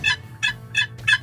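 A waterproof wooden turkey box call worked to imitate a gobble, four rapid raspy bursts evenly spaced about every third of a second, close and fairly loud with no voices.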